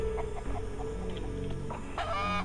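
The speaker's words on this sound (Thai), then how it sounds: "ไก่ร้องตกใจเลย" Chickens clucking in the survival video game Mist Survival, a few short clucks over a dense, steady game ambience and background music, moderately loud.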